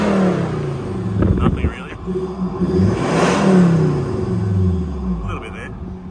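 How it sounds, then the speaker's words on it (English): Stock-airbox Ford Ranger engine revving up and falling back in rising and dropping sweeps, close by and fairly loud, with people talking over it. "So give it a rev, we'll hear, see what it sounds like."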